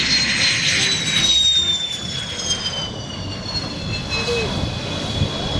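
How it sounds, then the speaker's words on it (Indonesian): A toy fighter jet gives a steady jet-engine roar with a high descending whine, loud and continuous throughout, heard among toy race cars, buses, trucks, trains and tanks. "lihat ada pesawat jet tempur"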